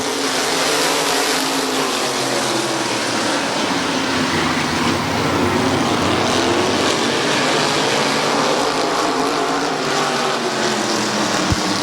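Race cars at Midvale Speedway roaring around the oval together, a loud continuous engine drone that swells and shifts in pitch as the pack passes, with no talk.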